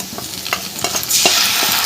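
A ground spice paste of cumin, chilli and ginger hits fried onions in hot oil: several quick stirring scrapes, then a loud burst of sizzling that swells and holds, close up with no talk.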